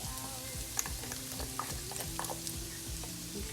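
Worcestershire sauce, about a tablespoon, hits a hot pot and sizzles steadily with a continuous crackling hiss and some stirring scrapes, close and alone.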